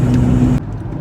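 A van drives on a freeway with steady road and engine noise. It cuts off abruptly partway through and quieter cabin sounds follow. No voices.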